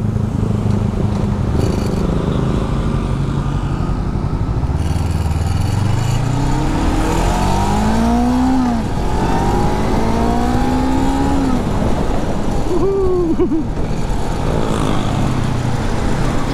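A 471 cc parallel-twin engine on a Hunter Scrambler SK500 motorcycle idles with a steady low rumble, then revs up in rising, falling sweeps several times, close and loud throughout.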